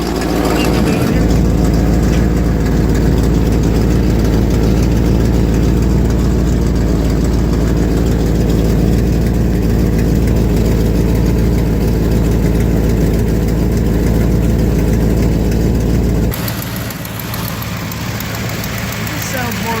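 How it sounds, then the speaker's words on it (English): A 1970 Dodge Challenger convertible idles steadily up close with a leaking exhaust, a loud continuous low rumble carrying a rapid ticking puff, then the engine cuts off near the end, leaving quieter background. "This sounds more like an exhaust leak than it does a lifter tick."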